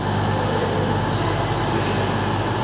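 A diverted LNER passenger train rolls past with a continuous, even roar and rumble at fairly close range, a broad wash of noise that stays level throughout with no voices.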